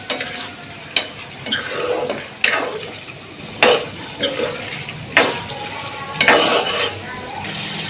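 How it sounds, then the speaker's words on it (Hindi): Mutton karahi with finely chopped green chillies frying on a high flame: a steady sizzle broken by regular, loud scraping strokes of a spoon against the pan, close by, with no talking. "इसको अच्छे तरीके से हाई फ्लेम पर ही हम लोग भूनेंगे"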